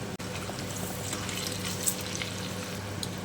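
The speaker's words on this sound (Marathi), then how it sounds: "तेलामध्ये असं सोडायचा अगदी खूप जास्त वेळसुद्धा लागत नाही" Dahi vada frying in hot oil, a soft continuous bubbling sizzle with a faint splash and a few light crackles, fairly quiet and close, with no speech.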